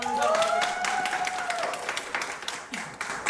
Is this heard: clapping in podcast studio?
yes